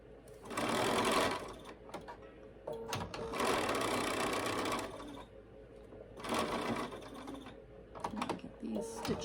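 A sewing machine stitches quilt block triangles in several bursts of rapid whirring and clatter, each a couple of seconds long, with short pauses between them; close and moderately loud.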